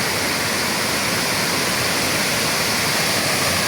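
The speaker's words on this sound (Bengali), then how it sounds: "ইয়েস, আরও একটি ঝর্ণা আমরা পেয়ে গেলাম" Kumari waterfall at Thanchi, Bandarban, swollen with monsoon water, roaring as a loud, steady, unbroken rush of falling water heard up close with no voices.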